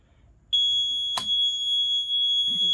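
A loud, steady high-pitched warning beep from a CF Moto 520L or Segway 500L ATV sounds when the parking brake is released, starting abruptly and holding continuously, with a brief clunk partway through.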